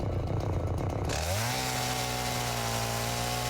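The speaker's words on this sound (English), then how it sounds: "chainsaw here." Satisfactory video game chainsaw running loud and close, a rough idle chugging before it revs up into a steady high-pitched whine that holds to the end.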